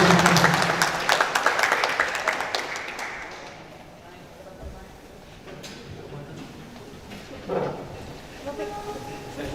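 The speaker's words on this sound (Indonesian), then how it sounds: "Kita beri tepuk tangan sekali kepada narasumber." A burst of audience clapping at a university guest lecture fades out over a few seconds, followed by room noise and people talking.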